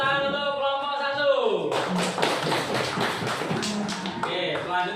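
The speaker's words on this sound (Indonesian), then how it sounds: "Beri tepuk tangan untuk kelompok 1." Classroom applause for a student group during a coding lesson on computational thinking: after a brief voice, dense clapping swells and holds for about three seconds before a voice returns.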